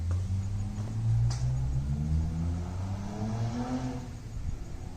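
A Ford Taurus SHO engine idling with open downpipes gives a deep, rumbling exhaust drone, then rises in pitch as it revs up briefly, close by.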